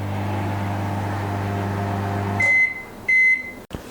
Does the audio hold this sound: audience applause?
no